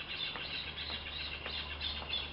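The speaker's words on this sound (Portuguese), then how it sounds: "Ao som dos pássaros." Birds chirp faintly in the background, thin high calls repeating against a steady hiss and low hum.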